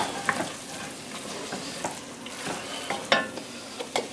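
A spoon stirs crawfish and shrimp étouffée seasoning in a pot with soft scrapes and a faint sizzle, and a few sharper clinks of utensil against metal stand out near the start and just past three seconds.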